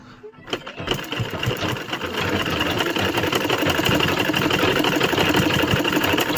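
A sewing machine stitches in a home, starting after a brief pause and then running at a steady, fast mechanical rhythm close by.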